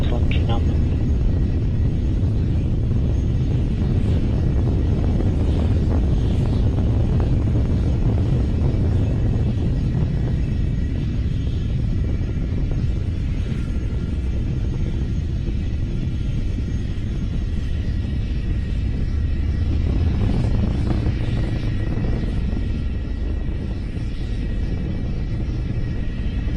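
SpaceX Falcon 9 rocket engines roaring in flight, a steady loud low rumble and crackle filling the whole stretch, heard far off under continuous voices from a launch broadcast.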